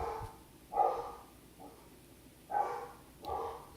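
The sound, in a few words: dogs barking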